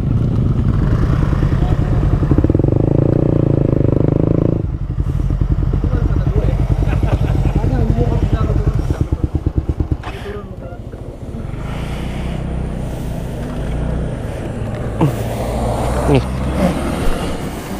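A Suzuki GSX-S150 motorcycle climbing a steep hill in second gear, its engine droning loud and strained up close, with wind buffeting and riders talking over it.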